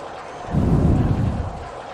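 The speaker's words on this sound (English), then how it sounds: "And it's still raining." A low rumble of thunder swells and fades over steady background rain in the video game OpenRCT2, moderately loud.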